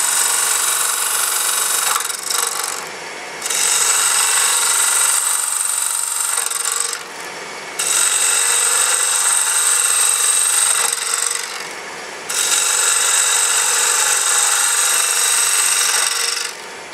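A power tool takes wood off a turned wooden piece in three long, loud passes of harsh, rasping abrasion, separated by brief pauses.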